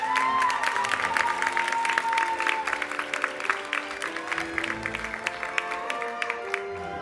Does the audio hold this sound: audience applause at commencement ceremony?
yes